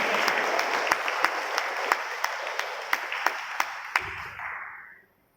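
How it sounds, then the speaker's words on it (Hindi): A church congregation in Mumbai claps loudly in a steady, dense wash, with a few sharp individual claps standing out before the applause tapers off and stops at the end. "अब जोरदार तालियां बजाएंगे।"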